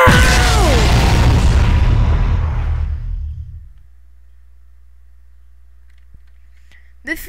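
A blue nuke bomb detonating in Garry's Mod: a loud roaring blast with deep rumble that fades over about three seconds into near silence, followed by a brief faint click.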